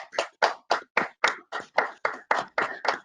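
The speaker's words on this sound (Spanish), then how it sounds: "les demos un aplauso a los presentadores del día de hoy" Participants in an online networking meeting clap over their microphones in a steady run of about eleven distinct, evenly spaced claps, close and moderately loud, with no talking.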